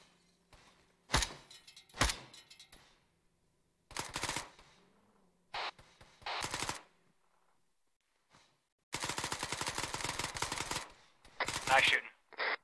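Bursts of video game gunfire from a military campaign mission: several rapid automatic volleys and single sharp shots separated by quiet gaps, with one long sustained burst near the end, loud and close.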